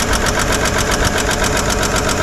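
A 1955 Chevy engine idles loud and close with a steady, rough rumble, while a fast rhythmic ticking and knocking from a noisy bottom end pulses evenly through it.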